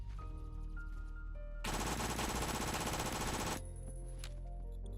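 An MP7 submachine gun firing in the Phantom Forces video game: one sustained, loud full-auto burst of about two seconds that stops abruptly, set between quieter game background sounds.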